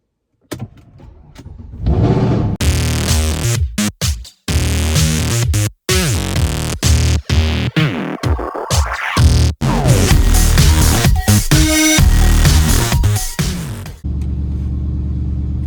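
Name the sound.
Mercedes C63 car engine starting and running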